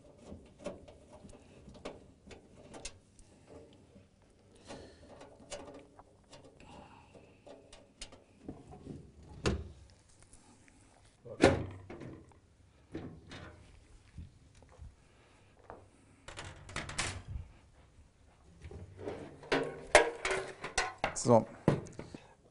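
Screws are loosened and a PC case is opened, giving sparse small metallic clicks, scrapes and clunks of the panel, close and fairly quiet. Someone talks between the sounds.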